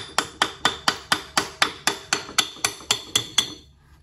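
A hammer strikes part of a Honda motorcycle engine, a Grand, Prima, Supra or Win100 type, during disassembly, giving about fourteen sharp, evenly spaced metallic blows close by, alone, before the ringing fades.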